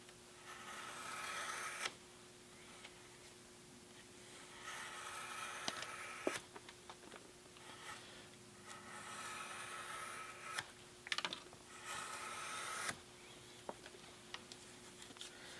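A blade trims the paper edges of a book, giving soft, repeated scraping and slicing strokes with a few sharper clicks, close and quiet, with no talk.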